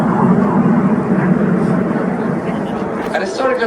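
Frecce Tricolori aerobatic jets performing a formation break at an air show, a loud steady roar of jet engines overhead, dense and continuous, with a public-address voice mixed in.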